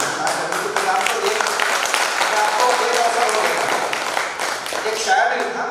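Audience applause at a poetry recital (kavi sammelan) in Ujjain, a steady wash of clapping from a crowd that carries through the whole stretch with some voices mixed in.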